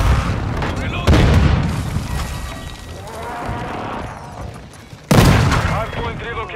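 Bursts of gunfire and heavy booms from Call of Duty: Modern Warfare II multiplayer, with two sudden loud blasts standing out over continuous battle noise and game voice callouts.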